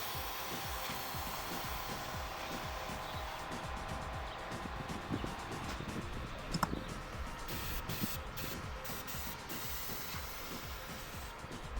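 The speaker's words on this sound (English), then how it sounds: "The airbrush is so perfectly suited for a textured surface such as a brick wall" A compressor-fed airbrush sprays paint onto a textured brick wall for an eagle mural, producing a steady close hiss with a low mechanical hum underneath, broken by a few short stops and restarts near the end.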